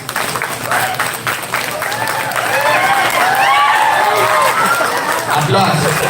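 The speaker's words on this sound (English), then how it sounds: "Applause." Audience applause and cheering at a national-level MBA college fest, a dense wash of clapping with excited shouts and crowd chatter rising and holding, loud and close, with voices mixed through it.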